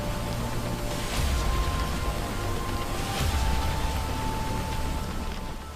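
Heavy rain showers and sea waves on Mumbai's Marine Drive, heard as a steady dense hiss of rainfall with a low surging wash of surf beneath, continuous and moderately loud throughout.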